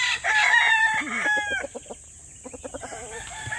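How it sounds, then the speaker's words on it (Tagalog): Mountain jungle fowl kept at a hillside chicken pen crowing once in a clear, loud call, followed by a series of short, close clucks. "Manok bundok."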